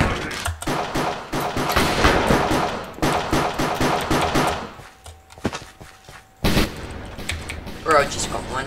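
Gunfire from a gun in the Minecraft BedWars video game comes as repeated sharp, loud shots and rapid bursts, broken by short pauses, mixed with players talking.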